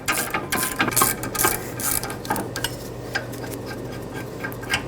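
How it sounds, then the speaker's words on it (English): A ratchet removing the brake caliper bracket bolts on a 2015-2020 Ford F-150 rear brake, quick bursts of close metallic clicking, loudest at first, then lighter intermittent ratcheting, no talking. "Take out the other bolt, finish removing the first one, and remove the caliper bracket."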